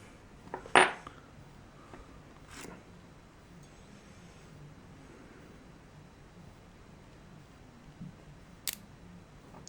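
Small metallic clicks as a Russwin IC lock cylinder is reassembled, a sharp tap near the start followed by quiet fiddling and a couple of faint clicks later, all close up with no talking.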